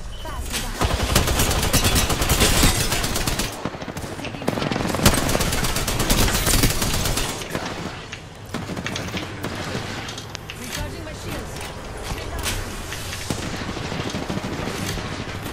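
Rapid automatic gunfire and bursts of shots crackle through a shooting video game, dense and loud in the first half and thinning to scattered shots later, with players talking over it.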